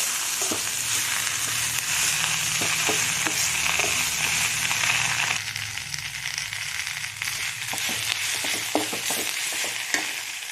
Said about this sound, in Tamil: கைப்பிடி அளவு கீரை சேர்த்துக்கிறோம். இது நல்லா வணங்குற அளவுக்கு இது நல்லா வதக்கிக்கணும்.